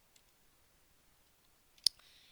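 A single sharp computer mouse click sounds while a line's equation is being displayed in a spreadsheet chart, standing alone against near silence with a faint trailing hiss.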